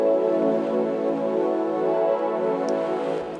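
Ambient synth pad made in the Vital synthesizer with no crystallizer effect, a soft sustained chord with gently shifting harmonics, steady and smooth, fading slightly at the end, with no voices.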